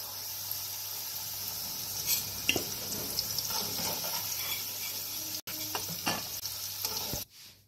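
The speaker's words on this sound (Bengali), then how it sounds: "গোটা জিরে আর তেজপাতা ফোড়ন দিলাম" Whole cumin and bay leaves fry in leftover potato oil, a soft continuous sizzle close by with occasional clinks and scrapes of a spatula, briefly cut off near the end.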